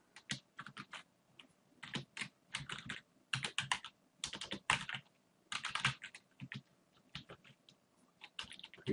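Quiet, close typing on a computer keyboard while writing Ruby code, irregular bursts of rapid key clicks separated by short pauses.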